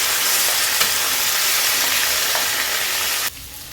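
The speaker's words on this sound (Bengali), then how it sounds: "এটাকে দিয়ে ভালো করে নাড়াচাড়া করে কষিয়ে আমি ভাজা ভাজা করে নিলাম" Vegetables with green chillies are stir-fried in a pan, making a loud, close hissing sizzle that cuts off abruptly near the end.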